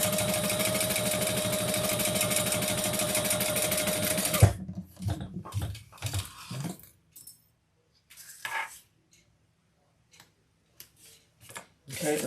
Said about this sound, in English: I'm going to do another row of stitching.